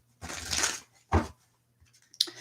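Playing cards shuffled during a live card reading: one long riffling burst followed by a shorter second shuffle and a few faint taps, close and alone with no talk.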